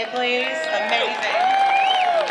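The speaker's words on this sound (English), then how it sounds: "can we get a round of applause for Jason Kay" An outdoor crowd at the Light Up York holiday event in 2017 cheers and applauds for performer Jason Kay. The steady clapping and whoops are loud and close, and a voice speaks over the noise.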